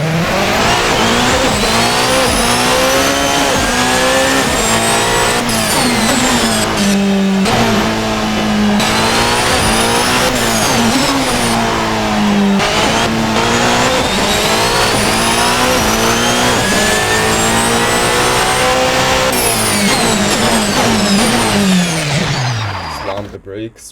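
A loud Race Sim Studio P91 race car engine in Assetto Corsa screams continuously, revving up and down through gear shifts, with brief drops and tire noise, fading out at the end.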